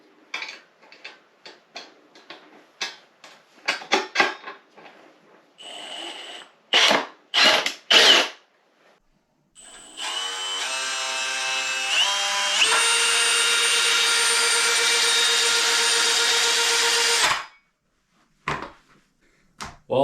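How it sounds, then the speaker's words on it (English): A Milwaukee M18 cordless drill turning a hand auger whirs in short bursts, then runs steadily for several seconds with a high whine before stopping; clicks and taps come between the bursts. "Hold the drill."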